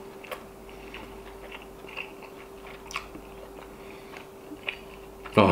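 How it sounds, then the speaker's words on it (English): Close, crisp crunching bites and chewing of a crunchy fried Thai-style omelet, soft irregular clicks at a slow steady pace, ending in a louder burst. "Oh yeah, that's some crunchy omelet."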